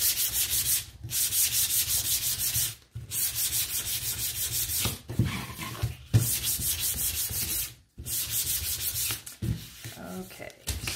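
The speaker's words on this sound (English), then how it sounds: "come back with a clean one and just kind of wipe some of that char off the edge" A clean cloth wipes the charred edge of a wooden sign, producing close, repeated rough rubbing strokes in bursts separated by brief pauses.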